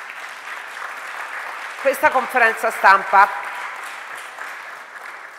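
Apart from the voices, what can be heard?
audience applause at a press conference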